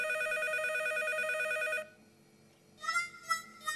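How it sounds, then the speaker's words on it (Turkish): A cartoon telephone rings in one long electronic trill, stops, and after a short pause starts again in quick bursts, with faint background music under it and no talk. "Anne, anne, seni aradım ve telefon çaldı."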